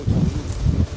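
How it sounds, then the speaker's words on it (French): Strong wind buffets the microphone outdoors beside an abandoned bunker, a loud low rumbling roar that surges and dips in gusts throughout. "Il y a même beaucoup de vent."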